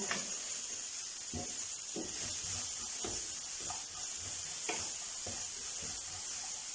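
Finely chopped onions sautéing in a pan for potato pinwheel samosas, a soft, steady sizzle and hiss broken by regular spoon stirs and scrapes.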